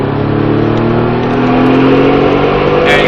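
A car accelerates hard on the Speed Vegas race track, its engine note climbing steadily in a loud, continuous roar close by with no break.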